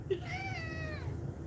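A kitten meows once in a long, drawn-out, wavering cry, close and clear, with no talking over it.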